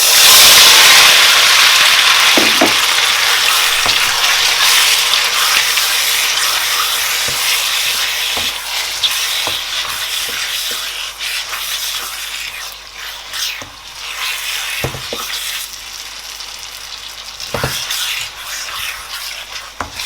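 Beef pieces dropped into hot oil for a stir fry, starting with a loud sizzling hiss that settles into steady frying, with occasional clanks of stirring.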